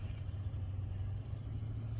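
A truck climbs a mountain road with a low, steady engine hum and rumble heard from inside the cab, constant and fairly quiet.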